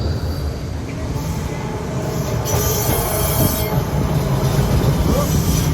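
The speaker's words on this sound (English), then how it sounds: "Here she comes, and it's known as the City Circle Tourist Tram" A City Circle tourist tram rolls in on rails with a steady rumbling clatter, metal wheels squealing high and thin as it draws steadily closer and louder.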